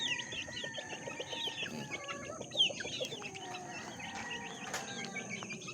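Hens and chicks cluck and peep softly in a steady, overlapping chorus at a farmyard, with faint high chirps throughout.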